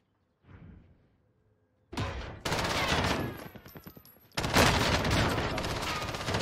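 Video game gunfire, with an M3 and an MP7 in play, comes in sharp loud bursts of rapid automatic shots after a quieter start, with a few brief pauses between volleys.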